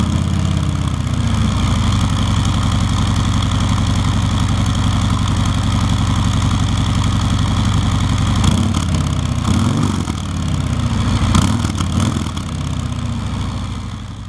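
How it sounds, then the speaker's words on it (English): A 2018 Harley-Davidson Sport Glide idles through its stock exhaust, a deep, loping low rumble held steady and close, with a few small throttle blips near the end. "Here's what we get for sound out of the stock exhaust."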